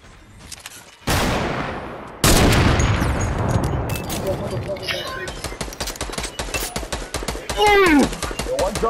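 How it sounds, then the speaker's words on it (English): Fortnite gunfire crackles in loud rapid volleys: a sharp opening burst, then sustained automatic fire with scattered single shots and game effects, with voices talking underneath. "I just heard shots from south."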